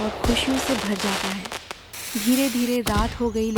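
Cartoon fireworks and firecrackers burst during a forest celebration at night, a few sharp pops and crackles sitting under a steady narrating voice.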